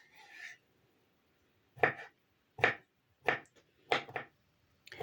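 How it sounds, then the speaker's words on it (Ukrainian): Several distinct knife chops through a pickled cucumber on a cutting board, evenly spaced about a second apart, crisp and close with silence between. "Огірок нарізаю кубиками."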